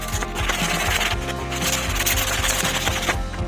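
The edges of a quad's brake lever are sanded with a steady, rapid scraping abrasion that runs continuously and fairly loud throughout.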